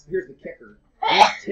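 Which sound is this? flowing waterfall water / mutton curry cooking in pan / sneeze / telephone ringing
sneeze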